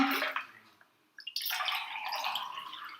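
Fresh water pouring into a pot of soap nuts, a steady splashing stream after a brief pause, close and fairly loud, with no talking.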